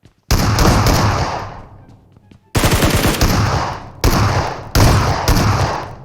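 Gunfire in the mobile battle game PUBG Mobile: loud, close bursts of rapid automatic shots in four rough volleys separated by brief gaps, each volley trailing off, with no talking over them.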